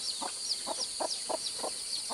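Hens at their laying spot give a run of soft, evenly spaced clucks, heard quietly against a steady high insect drone with no one speaking.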